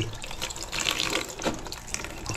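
Water runs steadily into a container to soak freshly picked okra, a close, continuous splashing pour with a brief swell partway through.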